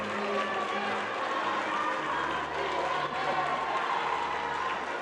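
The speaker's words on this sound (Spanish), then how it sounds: "En el recinto se escucharon porras, aplausos y muestras de apoyo" A crowd cheering and applauding at a ceremony honoring a cartoonist, a dense, continuous wash of clapping and shouts filling the venue at a steady, fairly loud level throughout.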